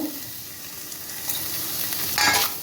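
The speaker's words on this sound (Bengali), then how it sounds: "গরম মশলা 1 চামচ দিয়ে আমি আবার ভালো করে নাড়াচাড়া করে নেব।" Pointed gourd with garam masala sizzles in a pan as it is stirred, a steady frying hiss with soft scraping that swells into a louder burst toward the end; no talking.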